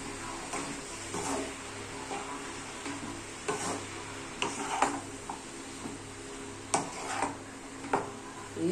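Lauki (bottle gourd) fries in a pan while a spatula stirs it, with steady sizzling under repeated scraping strokes and light clicks against the pan, close and continuous.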